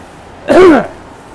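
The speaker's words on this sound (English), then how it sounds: "I'm going to have to take a big cough" A single deliberate cough from a man walking outdoors on a city street, a short loud burst lasting about a third of a second, standing out against quiet background noise.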